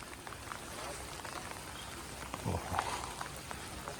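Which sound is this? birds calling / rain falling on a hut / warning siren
rain falling on a hut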